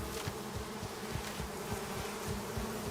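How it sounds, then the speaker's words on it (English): Bees buzz in the video game Icarus, a dense continuous swarm drone with a pulsing low throb underneath, steady and loud with no talking. "I'm gonna run right into those bees, too."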